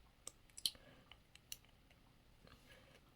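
A pen cap pulled off a capped pen, close and quiet: a few small sharp clicks and snaps in soft ASMR-style near-silence.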